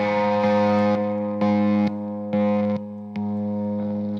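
An electric guitar plays through a plexi-style amp with a tube echo unit bypassed, giving a small boost, and sounds out sustained, distorted chords that change in a steady rhythm, loud and without echo.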